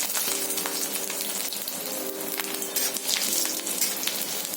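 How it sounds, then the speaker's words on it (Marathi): Garlic and ginger frying in hot oil in a pan for an egg curry, a continuous close sizzle with crackling pops and a faint tonal hum underneath. "आधी आपण लसूण आणि आलं घेऊयात गरम करून"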